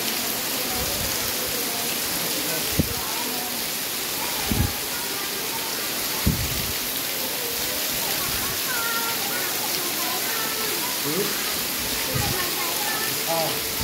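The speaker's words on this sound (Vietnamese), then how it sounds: "đây mưa to đấy" Heavy rain pours steadily and loudly around a temple complex, a dense continuous hiss with occasional louder splashes and thuds throughout.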